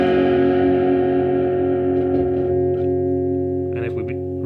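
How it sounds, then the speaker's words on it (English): Electric guitar played through a Klon Centaur overdrive pedal at its standard setting, giving a sustained, harmonically rich overdriven chord that rings loud and steady, with a few fresh picked notes near the end. "So the pedal sounds like this."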